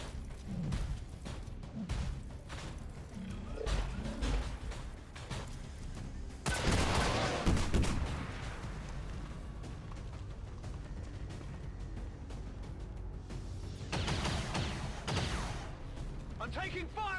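Enemy gunfire directed at a squad in XCOM 2, heard as two rough volleys of shots and impacts amid a low rumbling game soundscape, with a voice talking throughout.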